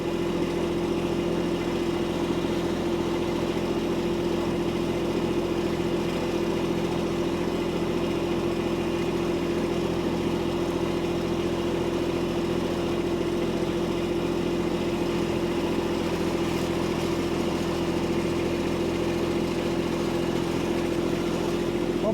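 Compact tractor fitted with a grapple idling steadily in a muddy spot, a constant low engine hum with a strong even tone, unbroken and moderately close for the whole stretch.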